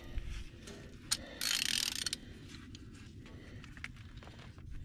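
Ratchet wrench tightening an oil filter on a Caterpillar 3208 diesel engine in a 1984 GMC Brigadier truck, giving scattered close, faint clicks and mechanical rattles with a brief burst of louder noise.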